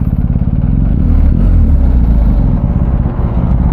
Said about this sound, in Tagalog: Ganito pala yung tunog ng GS no?